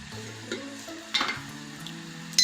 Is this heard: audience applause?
no